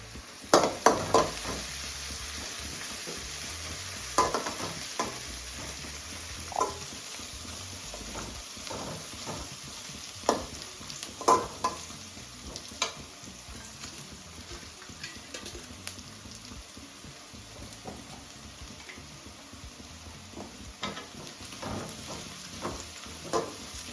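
Onions and curry leaves sautéing in a pan for a spicy green beef fry, a steady low sizzle with scattered sharp clicks and scrapes of a spoon stirring throughout.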